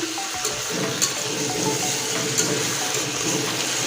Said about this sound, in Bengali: এবার নেড়ে দিচ্ছি